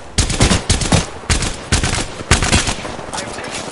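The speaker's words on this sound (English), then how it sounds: "I'm taking fire" Bursts of rapid automatic gunfire in the shooter game Apex Legends, loud and close, arriving in several clustered volleys separated by short gaps.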